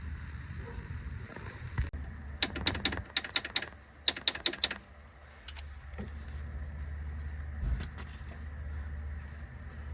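Torque wrench tightening the crank bolt on a MINI Cooper N12/N16 engine during a timing chain job, a quick cluster of sharp ratcheting clicks followed by a second burst, over a low background hum.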